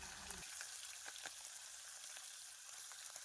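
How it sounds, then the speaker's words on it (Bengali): Thin slices of hilsa fish frying in mustard oil make a soft, even hiss, fairly faint and constant, after a brief low thump at the very start, with no one speaking. "সর্ষের তেলে হালকা পাতলা করে ইলিশ মাছগুলো ভেজে নেব"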